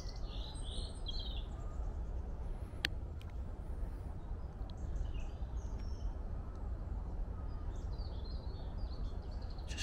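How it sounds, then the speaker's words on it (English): Birds chirping and twittering in the distance over a steady outdoor rumble, with scattered short calls throughout. "Just listening to the birds chattering away."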